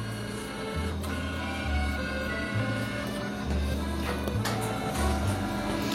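A Canon IR 2224 photocopier running off copies hums steadily with a repeating low mechanical cycle of feed and transport sounds, close and continuous, with no talking.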